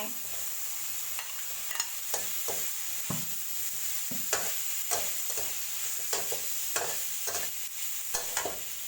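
Fried tofu and bean sprouts stir-fried in a pan hiss steadily as a spatula scrapes and clatters in repeated strokes, with no one talking.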